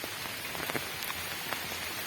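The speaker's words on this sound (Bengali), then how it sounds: "এখন বৃষ্টি পড়ছে" Steady rain falling on surfaces outdoors near a vegetable plot, a dense even patter with scattered drops, close and continuous, no voices.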